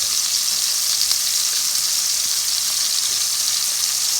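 Bread sizzles and fries in butter in a cast iron skillet over medium heat, a steady loud crackling hiss running throughout with no talk.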